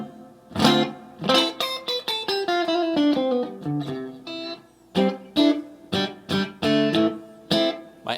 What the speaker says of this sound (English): Plate reverb.